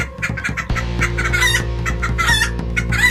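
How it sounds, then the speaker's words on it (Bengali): Cartoon chickens squawk and cluck in fear, a dense overlapping flock of panicked cries that rise and fall in bursts over about three seconds, loud and close with no voices. "এদিকে বাকি মুরগিগুলো ভয়ে চিৎকার করে ওঠে।"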